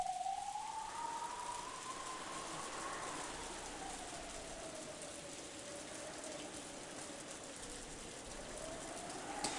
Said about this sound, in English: Outside, it was still raining.